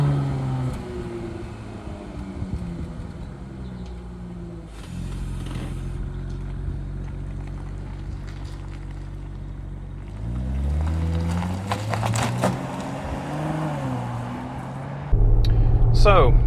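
A 2020 Porsche Cayenne S with its petrol V6 drives along, the engine note rising and falling through gear changes under continuous road noise, with someone talking over it and a louder surge of engine near the end.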